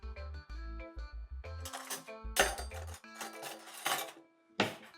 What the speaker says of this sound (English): Let me grab a spoon real quick.